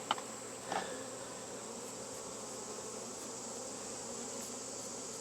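Honey bees buzz around an open hive during a honey harvest, a steady, even drone with a couple of faint knocks near the start.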